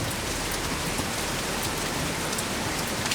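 Rain falls steadily outdoors, a dense continuous hiss of drops pattering on surfaces, even and unbroken with no voices.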